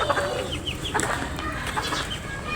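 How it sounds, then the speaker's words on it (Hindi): Two young chicks of a black hen cluck and peep in short repeated calls, close by, over steady outdoor background noise with no talking. "ये वो काली वाली मुर्गी के 2 बच्चे हैं जो चली गई हमारे पास से।"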